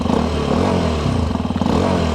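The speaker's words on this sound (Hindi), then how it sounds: "ये इसका कुछ एग्जॉस्ट नोट है।" Hero Xpulse 210 dual-sport motorcycle idling in neutral, its exhaust giving a steady, close and loud low rumble with a faint rhythmic pulse and slight mechanical clatter, no voices.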